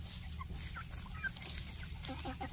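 Backyard chickens, a mix of hens and young roosters, cluck softly and repeatedly in short bursts over a low background rumble.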